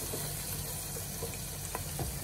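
Chicken and chicken liver frying in a pan for Filipino chicken menudo, a steady close sizzle with occasional pops and light stirring clinks.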